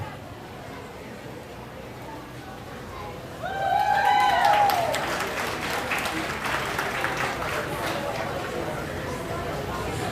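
Applause at a livestock swine show, building suddenly partway through and holding as a steady, full crowd wash, with voices and arena chatter mixed in.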